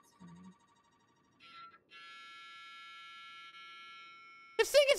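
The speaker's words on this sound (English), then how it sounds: "that one sounds like a phone" An electronic phone-like ring from a talking toy, a steady high tone held for a few seconds after brief beeps, followed by a burst of loud warbling chatter at the end.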